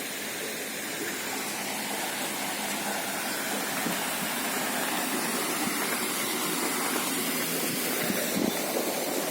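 Treated water gushing out of the outlet at a municipal underground sewage treatment plant, a steady, loud broadband rush like a small waterfall that continues unbroken throughout, with no talk.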